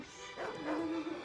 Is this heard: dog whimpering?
yes